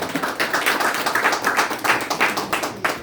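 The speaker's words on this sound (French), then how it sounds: "Est-ce qu'on peut l'applaudir" A crowd claps together in a steady, dense round of applause that carries evenly from start to finish, with no voices rising above it.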